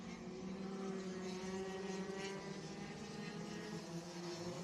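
Racing kart engines drone continuously at a distance during a live rally event at Ropaži, a steady buzzing roar that stays fairly faint and even throughout with no voices.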